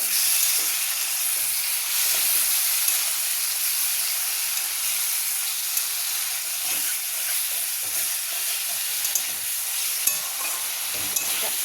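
Spice paste sizzles and fries steadily in hot oil for a Bengali pona fish curry, a loud, continuous close-up hiss with small crackles and the occasional scrape of stirring.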